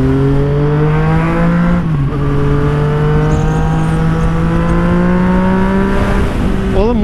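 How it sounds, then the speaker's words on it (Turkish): A Yamaha MT-09 motorcycle exhaust revs loudly and continuously, engine pitch rising and falling in smooth sweeps through gear changes, recorded up close on the bike while riding. "Oğlum egzoz var ya, özlemişim be."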